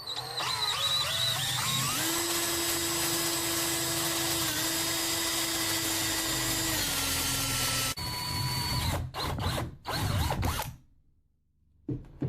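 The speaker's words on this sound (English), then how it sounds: "now we're going to go ahead and move on to drilling it" A small power drill bores a hole through a coin being made into a ring, a loud steady whine with a pitch that shifts, then stops and starts in short bursts before cutting off.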